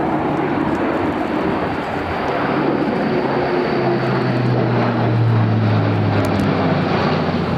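A Luftwaffe Airbus A400M military transport, a four-engine turboprop, flies past at the RIAT airshow, its steady loud propeller drone filling the air throughout with a slowly shifting low engine tone.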